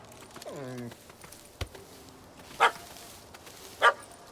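A puppy in The Witcher 3: Hearts of Stone gives a short rising whine, then a couple of sharp, separate barks in a quiet game scene.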